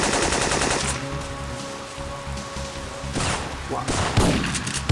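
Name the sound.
enemy gunfire in Syphon Filter video game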